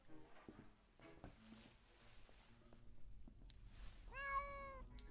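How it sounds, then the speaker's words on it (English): A cat in the video game Monaco gives a single clear, rising-then-falling meow near the end, following quiet scattered footsteps and clicks. "You heard a cat make a noise and you ran into the other room."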